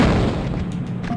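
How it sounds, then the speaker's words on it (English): A grenade launcher fires in Tomb Raider II Remastered, a single heavy, loud boom that fills the short moment and decays into a rumbling tail. "Now let's pull out the grenade launcher."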